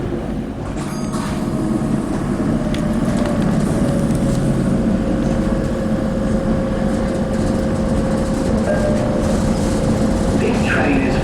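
A North East commuter train, a type in service since 1980, runs steadily with a loud, close, continuous rumble and rail drone for several seconds, with an automated announcement voice over it.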